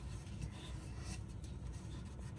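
Wood is burnished by hand rubbing, producing a continuous close dry friction hiss with a steady even loudness and faint rhythmic strokes.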